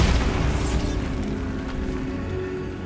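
A Bombarda explosion spell going off in Hogwarts Legacy, a heavy low boom bursting at the start and rumbling away into a decaying roar.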